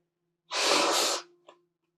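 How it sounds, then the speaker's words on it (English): A person blows their nose once, a loud burst of about three-quarters of a second followed by a short trailing snort, close to the microphone against a faint background hum. "I'm going to blow my nose"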